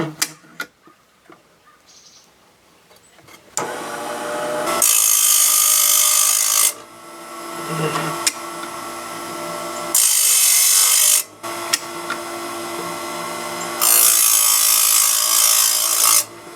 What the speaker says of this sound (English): One tooth will really catch that grinder, and the next tooth will barely touch it.